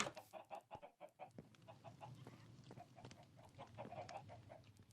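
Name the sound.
chickens clucking in the video game Minecraft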